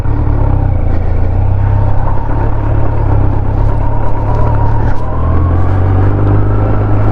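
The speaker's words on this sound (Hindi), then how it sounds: "तो क्लच छोड़ते ही बाइक आगे मूव हो जाएगी।" A Kawasaki Z900 superbike's engine rumbles steadily and loudly up close as the clutch is released and the bike rolls off without throttle, a continuous low idle-like drone throughout.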